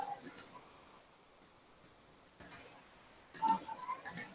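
Mouse clicks while working in PowerPoint, a few sharp, quiet clicks in small clusters separated by near silence.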